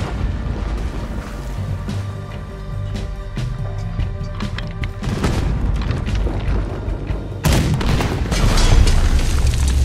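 Heavy cannon fire booms in a Red Dead Redemption 2 shipboard battle, loud rumbling blasts layered over a continuous low roar, growing denser toward the end.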